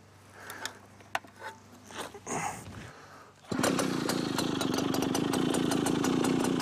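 An old Stihl BL one-man chainsaw with a large 125 cc engine is pulled several times, then fires up and settles into a loud, steady, rattling idle close by.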